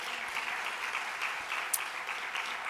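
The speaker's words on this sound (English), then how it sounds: "please clap for them" An audience at the KRA Annual Summit 2025 claps steadily at moderate volume, a continuous patter of hands with one brief sharp sound partway through.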